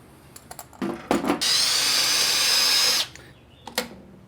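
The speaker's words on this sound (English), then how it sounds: "drill this a little bit bigger so that our linkage fits in there" A power drill whines steadily for about a second and a half, loud and close, enlarging a hole for a linkage on a 1959 Pontiac, with a few short knocks and clatters before and after.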